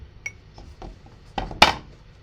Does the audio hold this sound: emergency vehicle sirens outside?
no